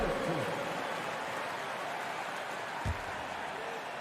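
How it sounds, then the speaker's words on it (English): Steady crowd applause and cheering fill a virtual NBA 2K23 basketball arena during a Grizzlies versus Suns game, a broad continuous roar at an even level throughout. "Give them a round of applause,"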